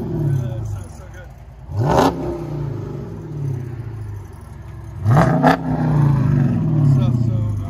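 2013 Dodge Challenger SRT8 6.4L HEMI V8 with dual exhaust and Dynomax Race Bullets gives two sharp throttle blips, each swelling into a deep rumbling rev and settling back to a loud, burbling idle, heard close outside.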